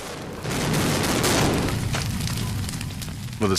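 A practical special-effect explosion of an airplane on a film set produces a sustained roaring, crackling blast that swells and holds for several seconds at moderate distance.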